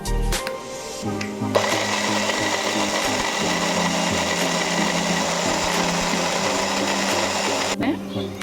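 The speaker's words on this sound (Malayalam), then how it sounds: "ഇപ്പോൾ ഇൻഗ്രീഡിയൻസ് എല്ലാം നമ്മൾ മിക്സിൻ്റെ അകത്ത് ഇട്ടിട്ടുണ്ട്. എന്നിട്ട് നന്നായിട്ട് പൊടിച്ചെടുക്കാം." Mixer grinder whirring steadily as it grinds dry herbal ingredients such as carrot seeds and kalonji for homemade hair oil, a loud continuous motor drone that starts abruptly and cuts off near the end.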